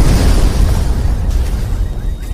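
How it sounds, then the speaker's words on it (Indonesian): A car blows up violently in a film scene, a loud roaring blast with crackling debris that holds strong before thinning out over about two seconds. "tiba-tiba mobil yang dinaiki oleh Nazar meledak hebat"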